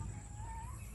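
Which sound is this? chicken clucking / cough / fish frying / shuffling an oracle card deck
chicken clucking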